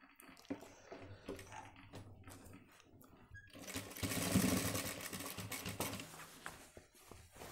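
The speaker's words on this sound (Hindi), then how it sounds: "इनको मिला करके और इस तरीके से सिलाई मारेंगे।" Stitching a shirt on a sewing machine: a few scattered handling taps and clicks come first, then a steady fast rattle of the machine running for several seconds, close and fairly quiet.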